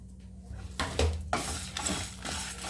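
Curry leaves dropped into hot oil in a pan while making South Indian tamarind rice: a few sharp spattering crackles and a rising sizzle, with a spoon clinking and stirring, moderately close.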